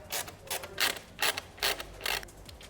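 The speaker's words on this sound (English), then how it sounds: "we're just going to use our T10 drill bit to unbolt this screw and this screw" Driver bit in a T10 socket unscrewing the indicator screw from a BMW M240i (G42) wing mirror, giving a series of about six short creaking, ratcheting bursts in a steady rhythm, close and fairly quiet, with no talking.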